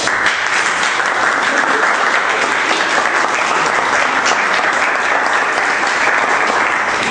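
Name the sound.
audience applause welcoming speaker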